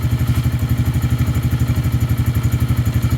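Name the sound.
Lifan King motorcycle engine running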